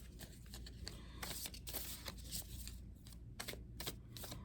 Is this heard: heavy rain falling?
no